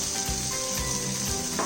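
Sliced mushrooms sautéing in a pan over softened onions for a roasted garlic spinach mushroom soup, a steady soft sizzle running throughout with faint low clatter and a brief brighter burst near the end.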